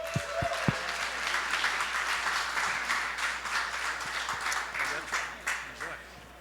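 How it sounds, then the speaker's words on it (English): Steady applause from a conference audience after panelists from Nova Labs and Solana are introduced, a dense wash of clapping that builds then gradually tapers, with a few thumps near the start. "So let's give them all a round of applause."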